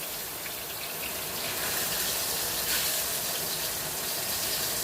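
Hands are washed under a running kitchen tap, a steady close gush of water splashing continuously at an even level for several seconds.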